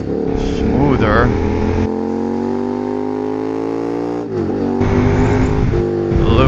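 A KTM 990 SMT motorcycle engine runs loud and close, its note climbing and falling through several revs with a gritty, growling tone that holds steady between the rises.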